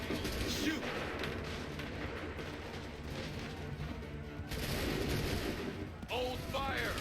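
Musket volleys in Assassin's Creed 3, distant rolling gunfire crackling over a continuous battle din, with birds chirping near the end.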